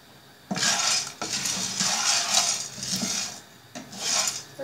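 Peanuts are stirred and tossed in a pan over a slow flame, giving repeated bursts of dry rattling and scraping against the metal, with short pauses between strokes.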